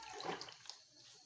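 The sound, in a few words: pouring water into a pot for rice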